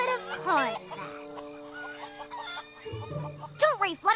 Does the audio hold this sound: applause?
no